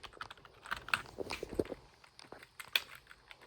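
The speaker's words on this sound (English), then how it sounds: "it's a nice keyboard to type on" Keys clatter on a 2003 Apple keyboard in quick, irregular light clicks at close range, fairly quiet, with short pauses between keystrokes.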